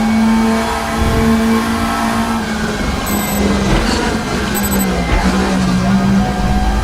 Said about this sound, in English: That turbo whine. It's pulling up.